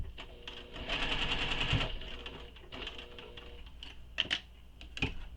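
A sewing machine stitches a pocket seam in quick bursts of rapid mechanical clatter, fairly faint and close, stopping and starting with small clicks between runs.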